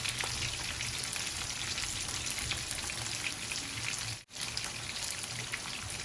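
Chopped garlic and ginger fry in oil for Bengali rani fish bhuna, giving a continuous soft, fine-grained sizzle at low level with a brief dip partway through.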